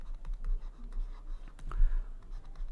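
Pen strokes scratching on paper while a calculus integration problem is worked by hand, soft intermittent scribbling at close range with a couple of sharper marks.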